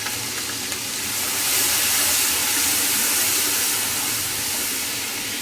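Ginger garlic paste hits half-browned onions in a hot pan, giving a loud, steady sizzle with a broad hissing wash that swells slightly and stays continuous throughout.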